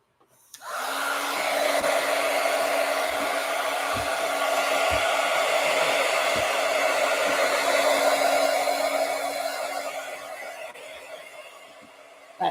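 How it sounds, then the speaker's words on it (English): A heat gun blows steadily on a paper craft project to dry it, a loud continuous whooshing roar that starts abruptly, holds for about ten seconds, then tapers off. "let me heat gun alert you"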